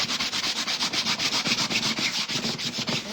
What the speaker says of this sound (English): let me just give it a quick sanding